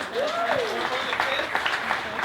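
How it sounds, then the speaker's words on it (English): An audience at a town hall with Louisville City FC's coach and players applauds in a steady broadband patter, with a voice speaking and calling out over the clapping. "I think we got to give an extra round of applause"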